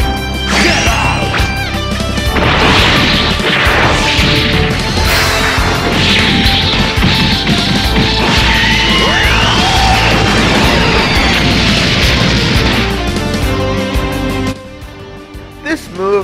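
Broly's ultimate attack in the Dragon Ball Raging Blast video game, a dense, loud barrage of smashing impacts and crashes layered with energy blasts and game music, sustained for most of the stretch before dropping off near the end.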